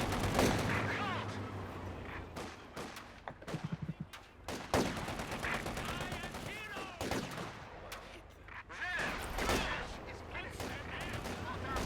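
Battlefield sounds from the Company of Heroes 2 strategy game: bursts of machine gun fire from a German MG42 and other gunshots and explosions, loud and repeated, mixed with game voice barks and chatter.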